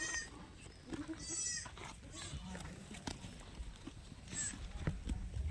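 A twelve-month-old breeding goat bleats a few times, close by, amid shuffling hooves and light background noise.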